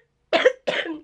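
Two quick, close coughs from a person with cystic fibrosis working to clear mucus from the airways, each a short harsh burst after a moment of silence.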